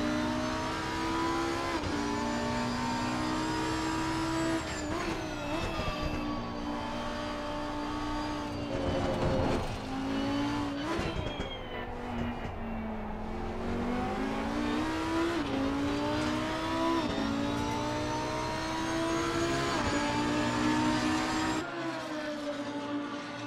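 A Lamborghini Huracan EVO GT3 race car laps Paul Ricard in Assetto Corsa Competizione, its engine screaming loud and close throughout, climbing through gears with sharp shifts and repeated rises and dips in pitch.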